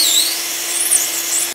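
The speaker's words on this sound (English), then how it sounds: "I'm going to drill the rest of these holes here." A power drill bores holes into a wooden MFT workbench top, giving a steady, close, high-pitched whine that runs without pause and cuts off at the end, with no talking.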